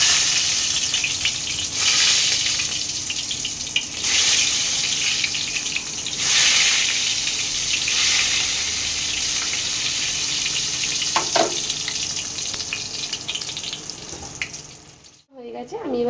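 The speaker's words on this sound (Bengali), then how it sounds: "আগে আমি বেগুনটা ভেজে নেব।" Brinjal slices rubbed with salt and turmeric fry in hot oil with a steady, close sizzle, broken by occasional louder bursts and handling clatter near the end.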